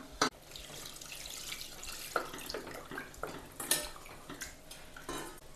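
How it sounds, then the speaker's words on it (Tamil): Water splashes into a cooking pot amid clinks and knocks of metal cookware while making a South Indian lunch, uneven and close, with no voices. "இப்போ நம்ம வந்து தண்ணி சேர்த்துக்கலாம்"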